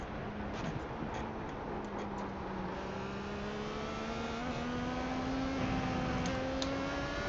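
Steady engine drone with rising whine of several IndyCars passing in the pit lane at Sebring in iRacing, continuous and moderately loud, with faint ticking clicks on top.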